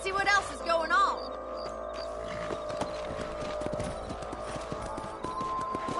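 Horse hooves clip-clop in a steady riding rhythm in Red Dead Redemption, under a layer of game sound with soft voices in the background.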